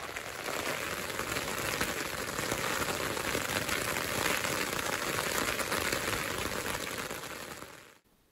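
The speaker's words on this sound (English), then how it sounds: "It rained for a lot of the night" Steady rain pattering on a Vango Cloud Peak 2 tent during a night wild camp at the Salt Cellar on Derwent Edge, Peak District; dense, even hiss of drops close overhead for about eight seconds, then cutting off abruptly.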